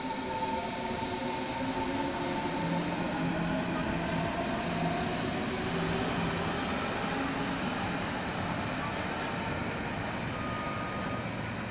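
An S-Bahn commuter train rumbles past steadily with a continuous roar and faint tonal whine, sustained and fairly loud for the whole stretch.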